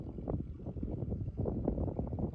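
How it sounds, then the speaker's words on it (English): Wind buffets the microphone at an exposed outdoor spot on a road trip, making a continuous, gusty low rumble that swells and dips without pause and with no one talking. "Pretty windy ass place."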